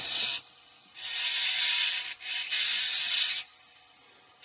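A rotary carving tool grinds fire agate at a few thousand RPM under light pressure, giving a steady high hiss that cuts out briefly and then resumes in sustained bursts, close and fairly loud.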